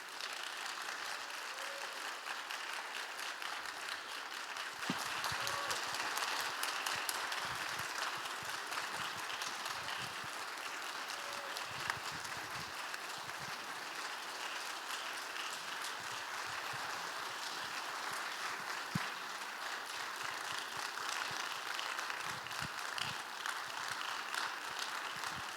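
A church youth congregation applauds its incoming department leaders at a Sunday worship service, a soft, sustained patter of many hands clapping, fairly distant and even throughout.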